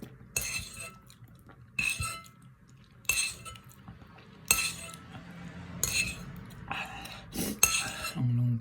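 A spoon and cutlery clinking against a bowl while someone eats spicy noodles, with six or seven bright metallic scrapes and clinks at a steady pace, close and alone.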